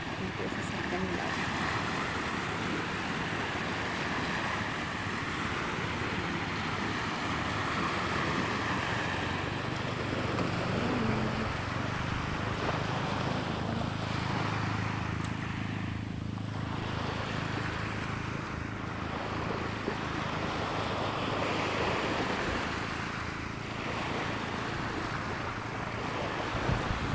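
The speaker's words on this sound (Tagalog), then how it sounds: "Ang sarap po talaga pagmasdan yung mga alon oh, kasi malinaw po talaga ang dagat dito." Clear sea waves wash in steadily along a resort beach, a continuous broad surf rush with soft swells of wind, and a voice talking faintly underneath.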